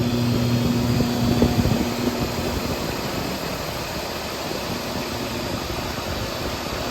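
An LS-swapped 800 Series International Scout cruises at about 2,800 RPM with a new 1310 series rear CV shaft, giving a steady, loud engine and road drone heard from inside without talking.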